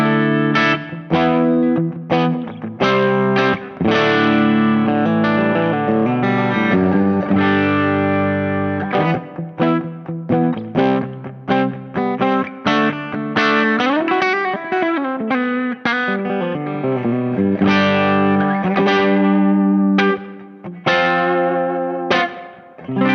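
An Ibanez AZ26P1 electric guitar played through its bridge pickup with reverb, sounding a steady run of distorted, chorus-tinged notes and chords that ring out alone without any talking.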